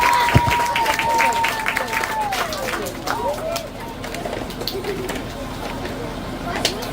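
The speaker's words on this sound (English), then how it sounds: "give yourselves a round of applause" Elementary schoolchildren at a steel topping-off ceremony clap for themselves in a steady crowd patter. A sustained whistle-like tone rises over it early on, and a voice speaks briefly under the applause.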